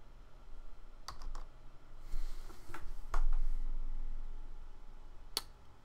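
Scattered, faint keystrokes on a computer keyboard as a product key is entered. A few isolated clicks are spaced irregularly over a quiet background hum.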